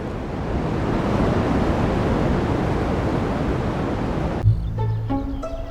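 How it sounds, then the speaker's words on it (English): A steady, broad hiss of cosmic background radio static, received by the horn reflector antenna at Bell Laboratories, fills most of the stretch, then cuts off abruptly into quieter sparse tones near the end. "This sound is the first evidence of the Big Bang."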